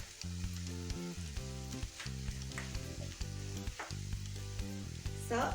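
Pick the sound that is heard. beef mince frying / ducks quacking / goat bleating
beef mince frying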